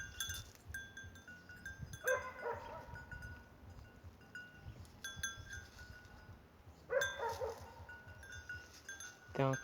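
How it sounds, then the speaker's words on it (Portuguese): A goat's bell clanks in irregular bursts on rural land near a reservoir, fairly faint and distant, with soft outdoor background between the rings. "Tem uma cabra tocando chocalho pra colar pra aquela mata"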